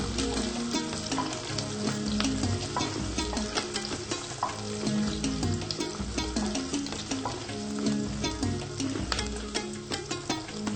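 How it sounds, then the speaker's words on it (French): Onion frying in a pan for egusi sauce crackles and sizzles steadily, with dense popping spatters and occasional stirring scrapes throughout, close and fairly loud, with no talking. "l'oignon est en train de cuire"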